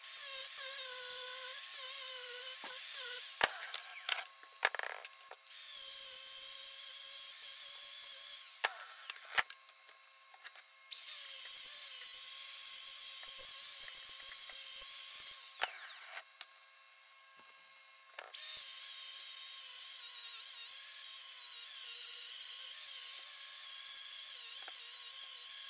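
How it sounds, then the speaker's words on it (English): An angle grinder fitted with a grinding and finishing disc combo grinds down metal welds, giving long, loud, high-pitched whining bursts with brief pauses and drops in pitch between passes, and no talk. "I'll show you how a quick combo of these two discs, if you are going to be grinding a lot of these, can be a really efficient way of dealing with these welds."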